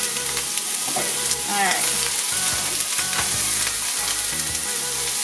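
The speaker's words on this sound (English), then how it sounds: "And then we're gonna add our vegetables." Vegetables sizzle loudly in a hot pan for a chicken quesadilla, a dense close crackle running steadily throughout, with a short spoken word near the start and faint rhythmic background thumps.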